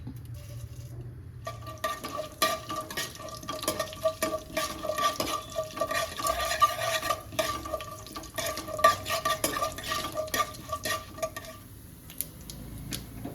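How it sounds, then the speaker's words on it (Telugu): Urad dal, fenugreek seeds, mustard seeds, cumin, coriander seeds and dried chillies roasting in a tablespoon of oil, heard as continuous rattling and scraping of a spoon stirring the seeds in the pan, with a faint sizzle beneath. "కొంచెం ధనియాలు, కొంచెం మిరపకాయలు, ఇవన్నీ దోరగా వేగించుకున్న తర్వాత ఒక ప్లేట్లోకి తీసుకోవాలి"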